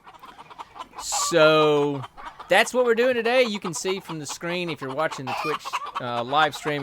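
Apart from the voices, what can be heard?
chickens clucking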